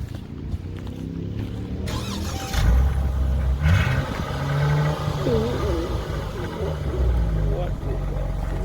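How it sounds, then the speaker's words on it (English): The V6 engine of an all-wheel-drive Dodge Challenger GT coupe revs up loudly and close by with a rising roar, then rumbles at a steady idle, while people talk over it. "Here, go listen to this thing."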